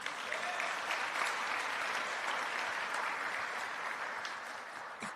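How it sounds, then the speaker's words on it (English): Steady, dense audience applause at a Martin Luther King Jr. memorial breakfast, a full room clapping evenly and close for the whole stretch with no break or voices. "I think that deserves a round of applause"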